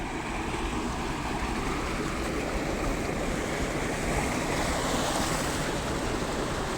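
Water rushes in a steady, dense wash from a flowing current, a continuous broad roar with some wind buffeting the microphone and no voices during the stretch.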